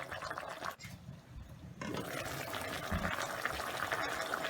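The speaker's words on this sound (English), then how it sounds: "So I'm mixing it so that the water from the soup will mix with the paprika." A pot of peanut butter soup with paprika being stirred on the stove, giving a steady, close, wet swishing and bubbling that runs throughout with a brief quieter dip near the start.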